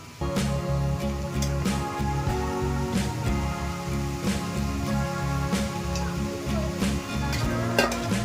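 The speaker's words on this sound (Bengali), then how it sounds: "দেখো মাংসটা দিয়ে দিলাম, এখন মশলার সাথে মিক্স করে নেব" Marinated meat stirred through sizzling masala in a pan: continuous close frying hiss broken by regular scraping strokes of a spatula against the pan, repeating steadily throughout.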